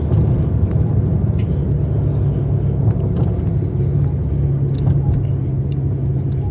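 A sports car cruises in traffic behind a police car, its engine giving a steady, loud low rumble that holds evenly throughout with no voices.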